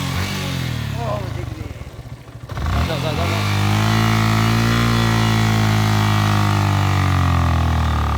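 A motorcycle engine starts out sputtering and uneven under talk, dips briefly, then settles into a loud, steady running hum close by.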